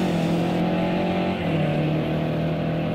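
A race car in the Project CARS 2 video game drives past during an endurance league race, its engine a steady, loud, continuous drone with a slight pitch shift midway.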